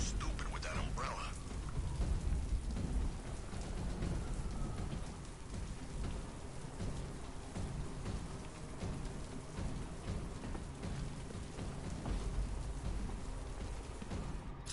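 Steady heavy rain pours in a Batman video game, with low thunder rumbling beneath a constant hiss of drops on surfaces, loud and unbroken throughout.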